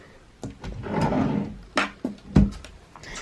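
A nursery dresser drawer slides open with a soft wooden scrape followed by a few short knocks and a firm thud, close and fairly quiet, with no talking.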